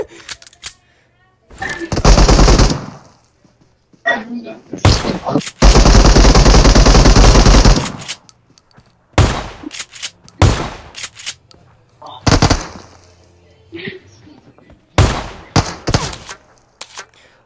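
Pistol gunfire in a video game, loud close bursts of shots scattered across the stretch, some in rapid strings and some in single cracks, with a player's voice talking between them.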